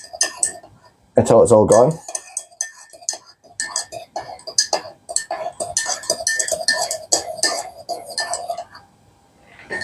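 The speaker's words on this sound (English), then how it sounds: "And then you stir it. You should feel a bit of a resistance, and you just keep stirring" A spoon stirs honey into milk, giving steady light clinks and scrapes against the cup over several seconds, with a louder thump near the start and a voice speaking over parts of it.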